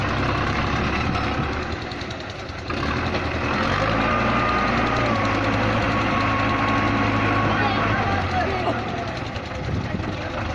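A Massey Ferguson 240 tractor stuck in mud in a Pakistani village, its engine running loud and steady throughout with a brief dip in power, while people talk nearby.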